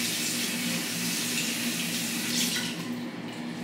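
Water runs steadily from a tap onto a facial sponge in a sink, a close, constant splashing rush with no talking.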